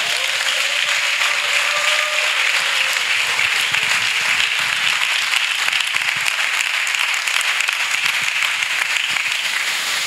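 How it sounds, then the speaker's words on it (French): A church congregation at a spiritual preparation gathering bursts into sustained, dense applause and clapping, loud and steady throughout with no break, a faint voice barely surfacing underneath. "Acclame Jésus-Christ"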